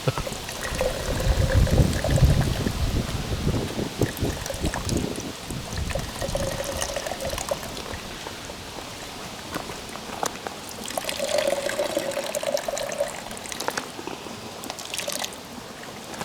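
Water poured into a cup to measure out about 16 ounces, a trickling pour heard close up in bursts amid outdoor background noise.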